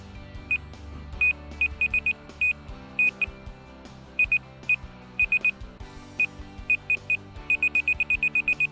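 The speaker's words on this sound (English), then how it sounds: "So a fast beep means we need to go up, a slow beep means we need to go down" A Vevor laser receiver, used with a transit laser while setting a new house's height, gives loud, sharp electronic beeps in short bursts and irregular clusters. The pace speeds up into rapid runs toward the end.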